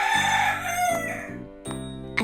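A rooster crows loudly nearby, a long drawn-out call followed by a short second burst at the end.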